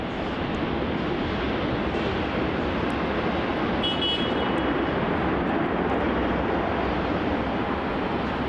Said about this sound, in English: this is Virgin Australia flight VA308 coming in from Brisbane